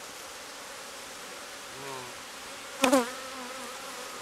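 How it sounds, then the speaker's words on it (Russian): A dense, steady hum of honeybees buzzing close by at an opened wooden beehive with brood frames, with a brief louder rustle near the end and a single short spoken word. "Сейчас мы посмотрим, что у нас тут с пчелами."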